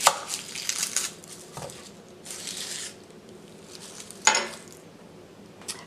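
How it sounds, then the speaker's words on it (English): Kitchen knife cutting the top off a head of garlic: a few short, crisp slicing and scraping strokes with brief pauses between them, close and fairly quiet, with no talking. "Let's cut off top of garlic head, exposing the cloves."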